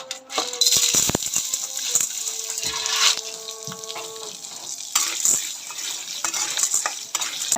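Corn kernels dropped into hot oil on a gas stove, crackling and spitting with sharp pops and clinks of a spoon against the pan, a steady sizzle running underneath.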